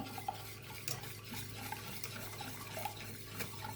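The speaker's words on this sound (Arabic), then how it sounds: "هخفق اللبن والزبادي بالشكل ده" Yogurt being whisked into milk in a bowl, a quiet, steady, rhythmic swishing and light tapping of the utensil, heard alone and close up.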